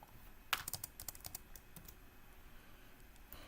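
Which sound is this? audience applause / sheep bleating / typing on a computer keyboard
typing on a computer keyboard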